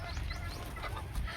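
Hens clucking in a poultry shed, a dense overlapping chatter of several birds close by, continuous and moderately loud for a brief moment with no talk.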